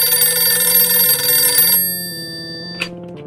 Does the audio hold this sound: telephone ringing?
yes